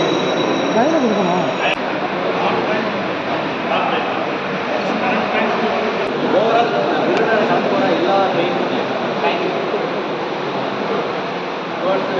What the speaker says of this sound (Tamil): ட்ரெயின்